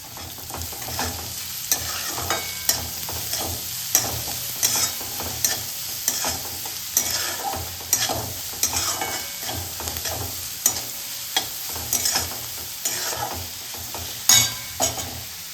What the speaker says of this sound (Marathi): तर आपला कांदा परततोय मित्रांनो